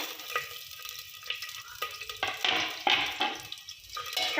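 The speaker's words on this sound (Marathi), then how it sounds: "कांदा तेल थोडं तापलं की कांदा टाकायचा" Onion dropped into hot oil for a mutton curry sizzles loudly and unevenly, with bursts of crackling hiss rising and falling as the pieces are stirred in the pan.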